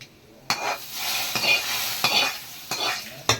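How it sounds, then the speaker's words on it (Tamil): Oil crackles and sizzles steadily as shallots are stirred in a pan for a sambar tempering, with a few sharper scraping bursts; no one speaks. "சின்னங்காயம் போட்டு மொறு மொறு சின்னங்காயம் போட்டு தாளிக்கணும் சாம்பார்"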